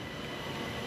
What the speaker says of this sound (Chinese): 火车伫铁轨路豆豆驶，